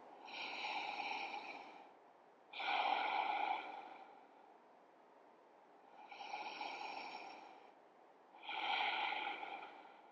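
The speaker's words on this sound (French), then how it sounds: "3 respirations encore." Deep, slow breaths during a yoga session, four long airy inhales and exhales spaced evenly a couple of seconds apart, close and quiet with silence between.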